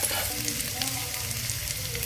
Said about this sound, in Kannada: ಇವಾಗ ಜಜ್ಜಿಟ್ಕೊಂಡಿರುವಂಥ ಶುಂಠಿ ಬೆಳ್ಳುಳ್ಳಿ ಪೇಸ್ಟ್ ಹಾಕೊತಿದ್ದೀನಿ